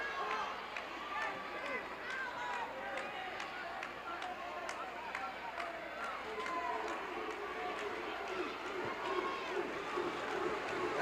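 A wrestling crowd in Houston barks like dogs to rile Dick Slater during his match with Alberto Madril, a dense arena roar of overlapping yelps and shouts under steady commentator talk.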